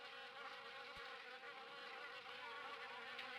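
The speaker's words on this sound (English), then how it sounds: "Seriously, the developers had to loop the buzzing sounds?" Wasps buzz in a looped drone from the video game Harvester, a steady, dense insect hum that stays close and constant with a single faint click near the start.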